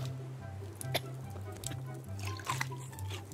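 Water being made in the survival game Raft: soft trickling and dripping liquid sounds, close and fairly quiet, over a low steady hum from the game.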